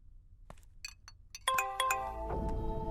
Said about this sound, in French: C'est bien un téléphone, ça vient de sonner.